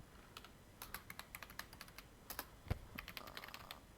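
Typing a password into a website on a computer keyboard, a run of light, evenly spaced key clicks with one heavier tap partway through, close but quiet with no talk.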